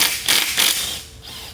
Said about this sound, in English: Take our impact once more with the extension and the 10mm.